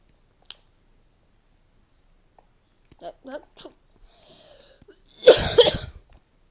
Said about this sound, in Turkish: Resmen bir at gibi öksürüyorum.